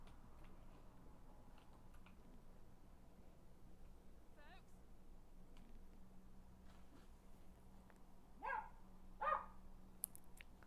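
A pet dog barks indoors a few times: one short bark, then two more near the end, faint and somewhat distant over a steady low hum.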